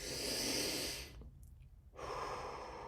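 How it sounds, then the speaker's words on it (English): Deep breathing in through the nose and out through the mouth, practised for stress management: a close, breathy inhale and exhale that fill most of the stretch, with a short quiet gap in the middle. "In through the nose, out through the mouth."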